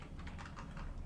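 Keys on a computer keyboard are pressed in a quick, steady run of soft clicks, heard close and fairly quiet with no talking over them.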